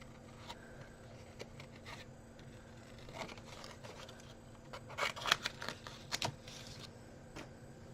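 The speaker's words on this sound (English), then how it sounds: "and then just quickly cut round it" Scissors cut around a coloured paper image, faint snips and scraping paper sounds in a quiet room, with a cluster of sharper cuts near the end.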